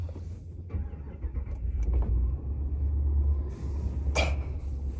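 A diesel truck engine cranks and starts, settling into a deep, loud idle rumble, with a brief mechanical whir near the end as the mirrors fold.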